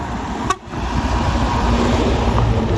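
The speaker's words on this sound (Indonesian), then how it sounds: "Ini bus medium" A medium bus rolls past on the Jalan Lintas Selatan road under construction near Bantur, Malang, with a short horn toot near the start over a steady, loud traffic and engine rumble.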